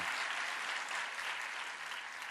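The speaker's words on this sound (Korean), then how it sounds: "박수 소리가 뭐 그래. 좀 더 크게 쳐요." Church audience applauding, a quiet but steady wash of many hands clapping together, heard from a distance and holding evenly without a break.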